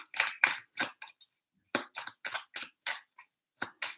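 Tarot cards being shuffled three times, crisp riffling bursts with short flicks between, close and fairly quiet, with no voice over them.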